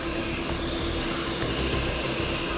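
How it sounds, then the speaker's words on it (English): Turbine engines of a retired RAF rescue helicopter whine loudly and steadily during start-up as the rotor blades begin turning, forming a constant high-pitched drone. "Blades are turning."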